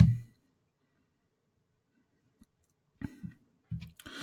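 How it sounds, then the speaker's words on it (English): Mouse clicks on the plus create button in Facebook's ad creation screen: a single faint click, then a short cluster of sharper clicks and soft thumps near the end, with no talking. "the first thing we're going to do is click the plus create button"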